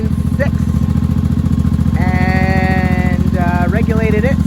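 A 1983 Honda motorcycle engine runs close by with a steady, throbbing, even pulse. Brief whining tones rise and fall over it partway through.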